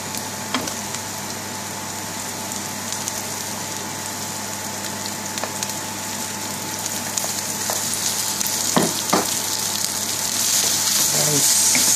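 Rice tossed into browned onions for Indian-style onion fried rice sizzles steadily in a pan, a continuous close hiss with occasional scraping stirs and light taps that grows slightly louder toward the end.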